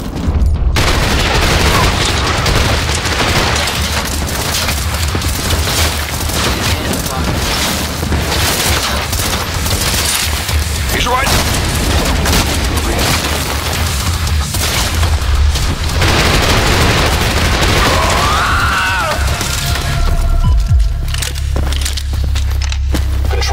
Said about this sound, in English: It's a fucking grenade.